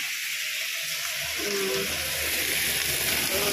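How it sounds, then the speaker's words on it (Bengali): Ivy gourd (kundri) frying in a pan, a continuous close hiss of sizzling oil with faint low background rumbles and no voices. "এখন কুদরি ভাজা বসিয়ে দিয়েছি"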